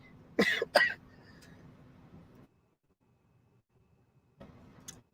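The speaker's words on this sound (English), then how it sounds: "I'm still getting over a cold, so I apologize for the cough." Two sharp coughs from a person recovering from a cold, close together near the start, followed by quiet room noise, silence, and another brief throat sound at the end.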